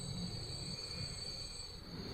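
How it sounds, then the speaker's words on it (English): An electric train runs along the track in Transport Fever, a steady rolling rumble with a faint high whine from the wheels, heard alone and continuous throughout. "This is my first electric train on this specific run."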